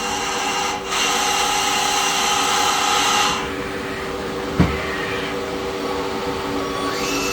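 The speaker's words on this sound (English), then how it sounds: "Spindle turning. That's the rotary guide bushing. Indexing. Rotary tools." A 1998 Citizen Cincom L-20 Swiss-type CNC lathe runs with a steady mechanical whir and hum as its spindle turns and tools index, changing tone midway with a single brief clunk, close and loud.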